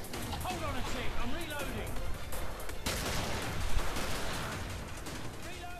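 Gunfire in the video game Killing Floor, dense rapid bursts of shots with heavy recoil continuing for several seconds, loud and close, mixed with a player's voice talking over it.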